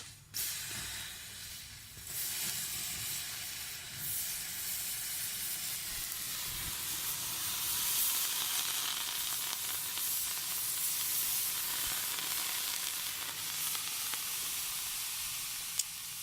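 Thermite burning underwater gives a continuous loud sizzling hiss that holds steady for the whole stretch, with no voices.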